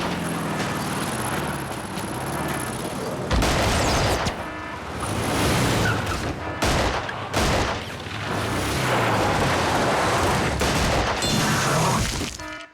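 Gunfire and booms layered with a car and background effects in a sound mix from the TV drama Lost, dense and loud throughout with bursts and sharp cuts, no talk.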